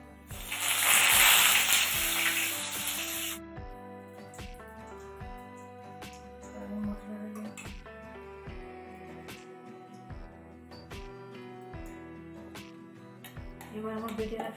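A bay leaf, nigella seeds and a dried red chilli hit hot oil with a loud, close burst of sizzling that lasts a few seconds, then the frying fades under background music.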